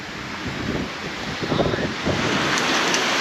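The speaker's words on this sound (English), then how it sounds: "And here comes the rain." Rain from an incoming storm on an island pours down as a steady broadband hiss, mixed with gusting wind noise on the microphone that swells in a few louder bursts.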